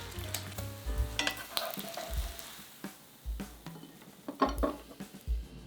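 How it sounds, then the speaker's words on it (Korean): Egg-dipped toast for strawberry French toast sizzles softly in a pan over low heat, a quiet crackling fry broken by occasional clinks and scraping from turning or pressing the bread. "계란물을 묻힌 토스트를 팬 위에 올리고 약불로 노릇하게 굽습니다."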